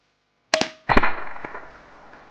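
An airgun fires a 22 grain exploding slug: a sharp crack, then a louder bang on impact a moment later, followed by a short fading tail in otherwise quiet surroundings.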